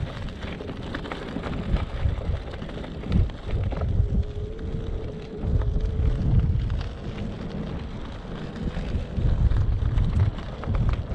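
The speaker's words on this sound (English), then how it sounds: "That's a strong wind that, and it's cold." Strong cold wind on an island coast at Benbecula, roaring and buffeting a microphone during a short e-bike ride, a continuous low rumble that swells and eases in gusts with no talk.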